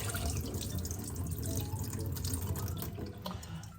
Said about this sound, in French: Et on vide la première eau.